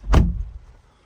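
A car door on a 2022 Volkswagen Tiguan SEL R-Line slams shut with one solid, close thump, followed by a short muffled decay in light rain, with no voices.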